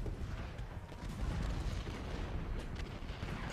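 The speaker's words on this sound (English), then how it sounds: "Cannons can continue." Cannon artillery fire in the Ultimate General: Gettysburg strategy game, a continuous dense rumble of booms and distant blasts from a Civil War battlefield, with no voices over it.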